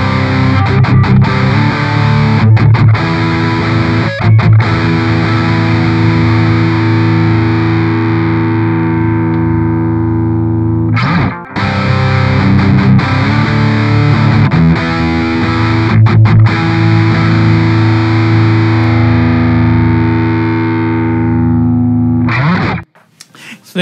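An electric guitar plays a loud distorted riff on the neck pickup, comparing a Gibson Les Paul Studio and a PRS SE Custom 24-08, with long sustained chords and brief stops, and it cuts off near the end.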